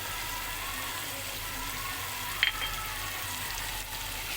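Biryani masala and red chili powder sizzle steadily in a pan while being stirred, a continuous close frying hiss with one brief clink of the utensil.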